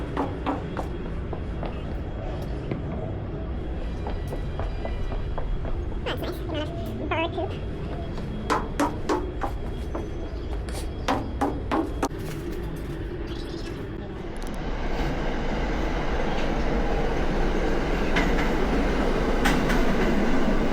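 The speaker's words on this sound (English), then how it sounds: "It looks like I've made it to the subway." A subway train in a Manhattan station rumbles and clatters on the rails, with squeals and clicks, before a louder, broader roar builds as it moves through. Voices, including a child's, are heard faintly beneath it.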